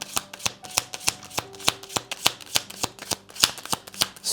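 Tarot cards riffled and shuffled in a close, steady run of crisp flicking bursts, each a sharp papery snap repeating roughly every quarter second with no voices.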